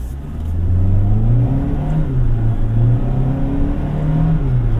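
A 2024 Kia Seltos SX with a dual-clutch gearbox accelerates steadily, its engine note rising in pitch and dipping briefly at a shift before climbing again, heard from inside the cabin as a continuous drone with no talk.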